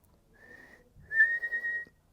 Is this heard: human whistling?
yes